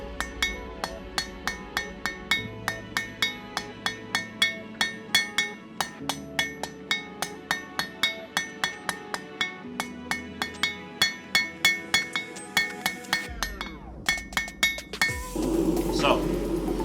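A hammer strikes a steel tent stake on an anvil to round its sides, ringing metallic blows in a steady, fairly quick rhythm with bright clinks, then a rougher noise at the end.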